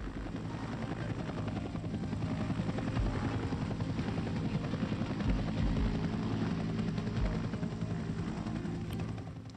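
Military helicopter rotors in Vietnam thump and roar continuously, a loud steady beating drone that holds throughout.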